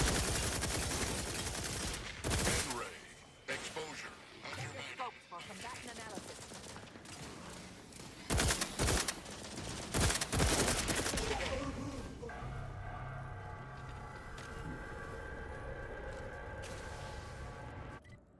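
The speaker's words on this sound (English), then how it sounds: "What happens if I accidentally shoot my allies?" Gunfire in the video game The Outer Worlds, bursts of rapid shots and loud bangs coming in clusters over the first ten seconds, followed by quieter tonal game sounds and some talk.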